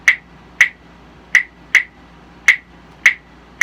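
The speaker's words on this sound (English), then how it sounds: "2 pieces of wood struck together to make a rhythm." Claves, two pieces of wood struck together, play the clave rhythm: seven sharp, bright, dry clicks close up, grouped three then two then two with clear gaps, with no other sounds around them.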